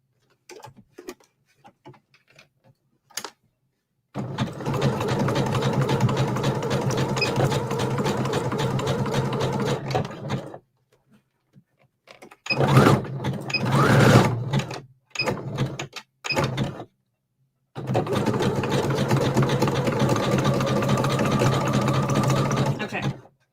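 Sewing machine stitching rope into a circle with black thread, running loud and close in three long steady whirring bursts separated by quiet pauses and brief starts.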